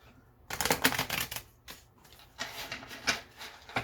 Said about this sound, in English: We can get the cards to shuffle,